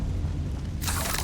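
A Confringo fire spell from the Hogwarts Legacy video game bursts as one sudden, loud, wide blast that cuts in after a low, steady background hum and then rings on without any voices.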